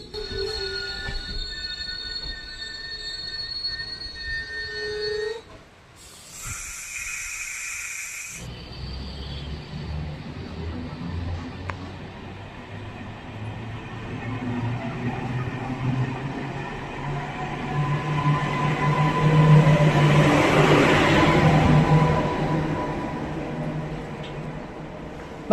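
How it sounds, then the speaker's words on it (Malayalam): A Yeshwantpur–Hosur MEMU train pulls into Banaswadi railway station with a long rumbling roll of wheels. A brief tonal horn sounds first, then a squeal of braking wheels builds to a loud peak before it eases off. "നമ്മുടെ ട്രെയിൻ അങ്ങനെ ബാനസ്വാടി റെയിൽവേ സ്റ്റേഷനിൽ എത്തിയതോടെ"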